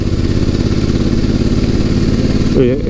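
A BMW F 850 GS Adventure (2019) twin-cylinder motorcycle engine drones at low revs, about 2000 rpm at 50 km/h uphill, a steady throbbing pulse under load, close and continuous, with a brief shift in tone at the end.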